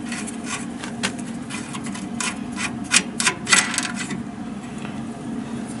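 Fuel line being worked loose from a Harvest Tec 720 dew simulator burner, a series of close, small scraping and tapping clicks over a steady low background hum, with no talking.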